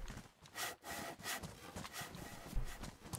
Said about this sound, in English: Alright, I'm gonna be sawing.